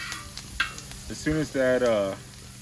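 Onion and garlic frying over high heat, a soft steady sizzle in the background, with a voice speaking briefly over it.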